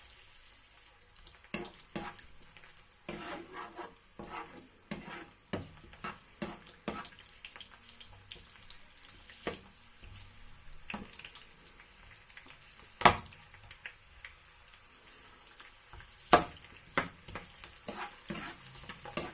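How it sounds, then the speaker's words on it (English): Garlic fries in oil for adobo, a faint, sparse sizzle with scattered spatters and a few sharper clicks and taps from stirring, heard alone at low level. "we're going to get our garlic nice and brown"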